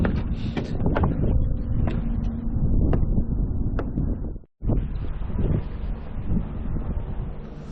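Strong wind buffeting the microphone outdoors on a trip to Wando, loud gusty rumbling roar that cuts out for a moment, then resumes with faint background noise.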